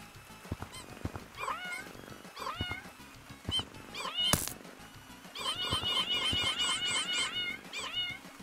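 A cat meows over and over in the Halloween update of Gorilla Tag, the cries spread across the scene, clear and fairly close, with a dense run of meows near the end and no talking.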